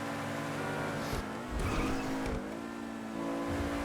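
An Ubermacht SC1 sports car in GTA Online roars through its engine with revving pitch shifts and a brief tire squeal, loud and close over a few seconds.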